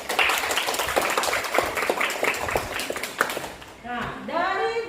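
Students in an economics classroom clap together after group presentations, a brisk scatter of many hands lasting several seconds before a teacher's voice takes over.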